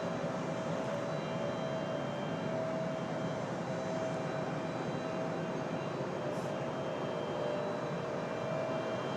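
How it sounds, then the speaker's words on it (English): A steady, loud jet engine whine and roar from a CRJ jet during pushback at Raleigh-Durham International Airport holds constant throughout, with a faint high tone running through it. "Got the pushback of a CRJ over here."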